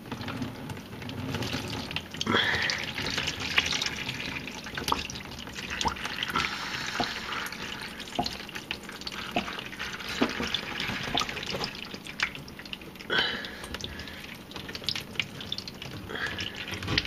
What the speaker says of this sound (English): here's why I say it's a good idea to have a drip pan